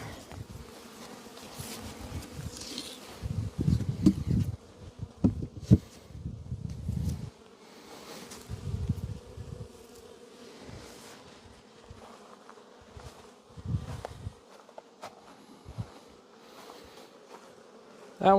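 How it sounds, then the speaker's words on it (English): Honey bees drone around an open hive, a low buzzing that swells and fades as individual bees pass close to the microphone, with quieter hive hum underneath and no speech. "By the looks of that, I see bees here."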